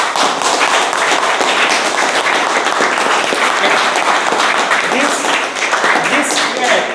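Meeting audience clapping together in a room, loud, dense, sustained applause with sharp individual hand claps close by, continuing steadily throughout.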